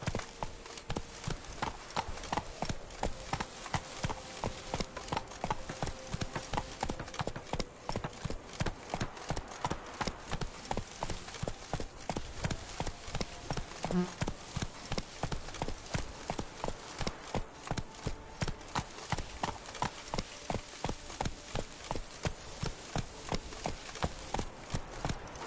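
Steady rhythmic clip-clop of a horse's hooves in The Witcher 3 on PS5, a continuous trotting beat lasting throughout at moderate volume with a faint voice briefly underneath.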